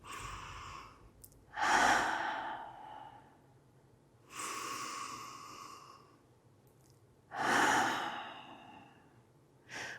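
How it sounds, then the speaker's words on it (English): Slow, deep breathing during a relaxed seated mobility stretch, three long audible breath cycles with airy inhales and sighing exhales, close and quiet with nobody speaking. "Let's take a few more breaths here."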